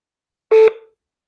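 A single short telephone keypad tone beeps clearly and alone, loud and close, while calling an office, then stops abruptly in silence.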